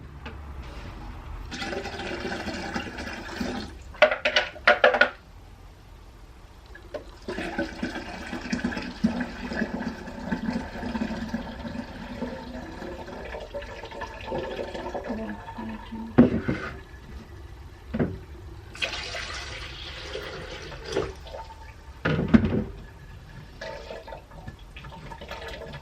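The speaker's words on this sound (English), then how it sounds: "I'm going to actually add water to this." Water pours from a gallon jug into a batch of horchata agua fresca, coming in several long, gushing bursts separated by short pauses.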